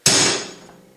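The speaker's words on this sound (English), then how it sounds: "you should take a center punch always when you're drilling" A hammer strikes a center punch once to mark a drilling point on metal for an electric motorcycle build, a single sharp, bright metallic clank that rings briefly and then fades, close and alone.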